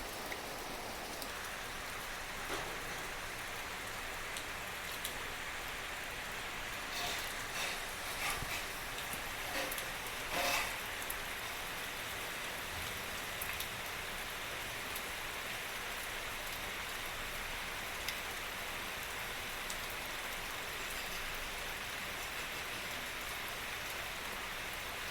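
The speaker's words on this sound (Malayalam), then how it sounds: "നല്ല മഴയാട്ടോ, രാവിലെ തന്നെ കാണിച്ചു തരാം. ചക്കാന്ന് പെയ്യുന്നുണ്ട്." Heavy morning rain pours steadily for the whole stretch, a dense constant hiss of drops on surfaces with a few louder splashes and taps midway, no talking.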